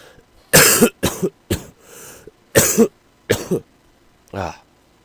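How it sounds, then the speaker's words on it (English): A person coughs several times in short bursts, separated by brief pauses, close to the microphone, ending with a throat clear. "I apologize for any coughing I may or may not do"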